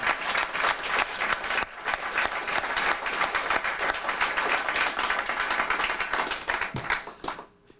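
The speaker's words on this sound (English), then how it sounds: "Let's have one final round of applause for all the IOG ambassador teams and their members" Sustained applause from an audience at a 1996 Amoco IOG Share Fair honoring the ambassador teams, dense steady clapping for about seven seconds before tapering off at the end.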